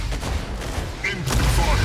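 Incoming enemy gunfire in the mech combat game Mech Arena: a dense, continuous rattle of shots and impacts rolling through the whole stretch, loud and steady with no pauses.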